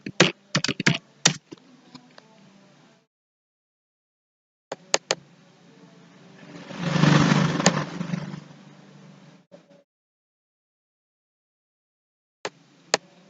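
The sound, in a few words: typing an IP address on a computer keyboard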